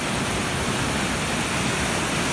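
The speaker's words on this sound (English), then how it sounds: "you can see quite a bit of current ripping down into the river" Swollen Fishing Creek after flooding, its strong current rushing toward the Susquehanna River as a loud, steady, broadband roar of water up close, with no voices.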